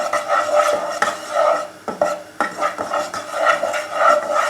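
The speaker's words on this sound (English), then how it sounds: "you want to keep stirring it for about a minute because you want to cook the flour out" A spoon stirs flour being cooked in a pan for a lasagne sauce, a close, continuous scraping and rasping with uneven strokes and occasional knocks against the metal, heard on its own without talk.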